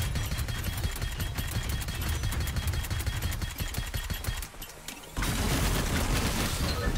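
Rapid gunfire from a weapon in the video game Arcadegeddon, a dense rattling burst of shots that briefly pauses and then resumes even louder and more continuous.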